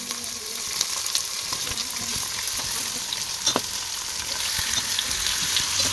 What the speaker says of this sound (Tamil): இந்த எண்ணெயிலேயே நல்ல லோ ஃப்ளேமில் வச்சு நல்லா வதக்கி விட்டுப்போம்